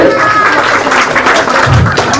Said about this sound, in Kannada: ಜೋರಾದ ಜೈಕಾರ ಮತ್ತು ಜೋರಾದ ಚಪ್ಪಾಳೆಯ ಮುಖಾಂತರ ಗುರುಗಳಿಗೆ ಸನ್ಮಾನವನ್ನು ಮಾಡಬೇಕಾಗಿ ವಿನಂತಿ